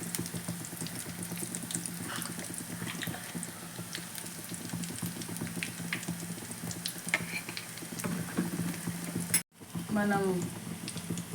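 Small bajjis frying in hot oil in a kadai, with a steady dense sizzle and crackle under occasional talk and a brief cut near the end before the frying resumes.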